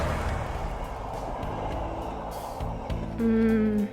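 Cars drive past in the video game Little Misfortune, giving a low, rumbling engine drone that swells and fades, with a brief tonal hum near the end.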